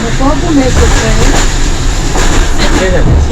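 Steady rumbling of a train running on rails after leaving Ruse, Bulgaria, broadband and continuous, with faint voices murmuring underneath.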